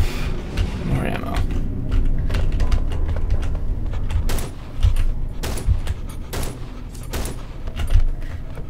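Gunshots in the horror game Cry of Fear, a series of sharp close reports spaced a second or so apart over a dense background of rumbling and mechanical noise.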